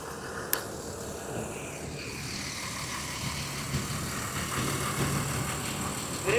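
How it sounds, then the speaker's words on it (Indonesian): The engine of a Mercedes-Benz OH 1628 bus drones steadily and low through the ride, with faint rattles and a brief click near the start, and no voices. "silakan dengarkan sendiri teman-teman suara mesin dari Mercy OH"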